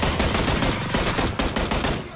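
Rapid, loud gunfire from a PUBG match, with a steady run of sharp shots close together across the whole moment and brief dips between bursts, no distinct single sniper crack standing apart.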